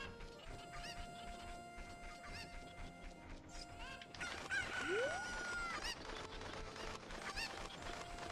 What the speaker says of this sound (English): We're going to find chickens and pick them up and return them to their master.